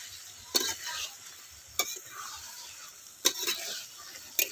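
Eggplant frying in a pan with a soft sizzle, broken by four sharp spoon scrapes against the pan at spaced intervals, close and alone without talk.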